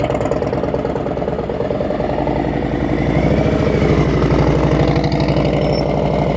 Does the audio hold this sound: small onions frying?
no